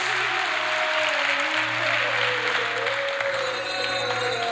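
Steady applause from an audience fills the whole stretch at an even, dense level, with a sustained tonal hum running underneath and no voices on top.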